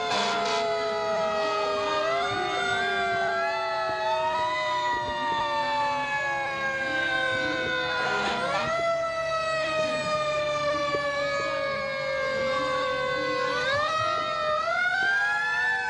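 Wailing siren of a 2009 Seagrave pumper fire engine passing in a parade, loud and continuous with repeated rising and falling sweeps throughout.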